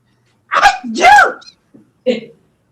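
A loud, close sneeze with a drawn-in breath and an explosive burst, followed by a brief vocal sound afterward.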